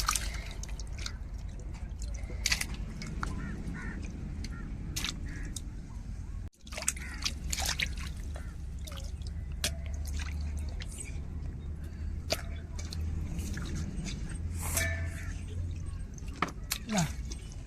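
Dried fish is rinsed by hand in plain water in a home kitchen, with soft drips, splashes and sloshing running steadily under a speaking voice throughout.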